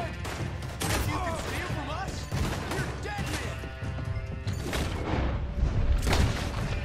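Gunfire in the video game Red Dead Redemption 2: several loud, sharp shots in quick bursts over a rumbling game soundscape, with a player's voice talking between them.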